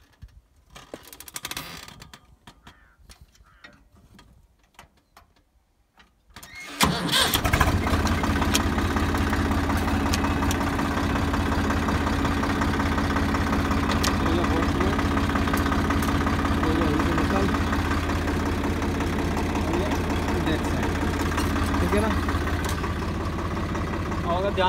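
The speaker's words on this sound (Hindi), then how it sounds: "अब देखना, ट्रैक्टर को स्टार्ट करूँगा" A tractor engine, set in fourth gear with a multi-speed PTO engaged behind it for a rotavator, starts after a quiet stretch and settles into a steady, loud idle with a deep low rumble.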